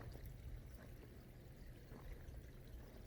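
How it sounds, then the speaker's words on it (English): Water running in an unfrozen creek on a freezing winter day, a faint, steady rushing and pouring wash with small splashy bursts, continuous and without talk. "The water's running here in the creek."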